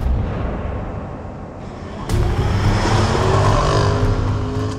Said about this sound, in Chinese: 我刚才看见汽车从下边开上去了